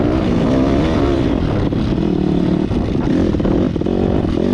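Dirt bike engine revving hard on a rocky trail in fall, a loud, close, continuous throaty drone with rising and falling pitch as the throttle opens.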